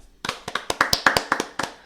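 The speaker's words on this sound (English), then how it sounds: "Can we give the weekly round of applause for not using Haaland?" A small group of podcast hosts gives a brief round of hand clapping. About a dozen crisp, separate claps ring out close and dry, with no talk over them.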